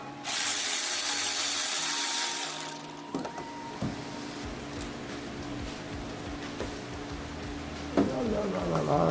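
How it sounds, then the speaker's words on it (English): A power tool whirs loudly for a few seconds loosening bolts on a 2004 Kia Rio during a timing belt job, then cuts out, leaving quieter clanks, rattles and a faint hum. "a lot quicker with some power tools"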